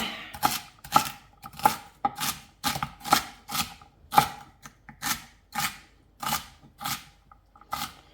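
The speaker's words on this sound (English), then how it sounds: "And we'll just keep dicing the rest." A knife dices beef on a cutting board with about a dozen crisp, evenly spaced chops, close and clear with no talking.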